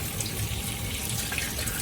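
Running tap water rinsing a freshly cleaned octopus in a sink, a loud, continuous close splashing rush with no pauses.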